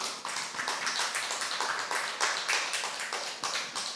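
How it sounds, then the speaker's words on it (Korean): An audience in a lecture hall claps together for several seconds, a dense, even patter of many hands close by and fairly steady in level, with no one talking over it. "후자로 박수 한번 치세요"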